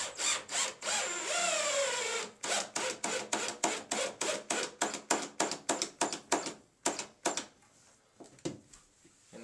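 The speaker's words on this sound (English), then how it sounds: "So I'll just take the bit out of my driver and it should go right in." A power driver drives 2-inch nut-driven screws with neoprene rubber washers into plastic. A rising motor whine comes first, then a long run of rapid, evenly spaced ratcheting bursts that slow and thin out toward the end, all close and clear.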